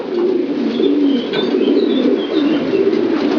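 Many long-distance racing pigeons coo continuously in a dense, rolling murmur inside a widowhood loft, close and fairly loud, with a few higher chirps breaking through.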